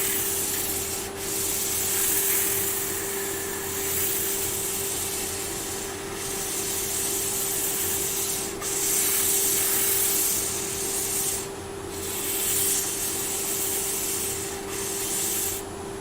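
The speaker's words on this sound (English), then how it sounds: "when I'm sanding the inside of the bowl, is I don't bring the sander out and catch me stain" Power sander working the inside of a rippled sycamore bowl, a continuous close whirring hum with a steady tone and occasional brief dips as the sander shifts, no speech.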